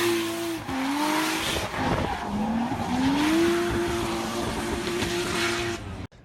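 A dedicated drift competition car skids with long wavering tire squeals over a loud, sustained engine roar, the pitch sliding up and down as it slides, ending abruptly.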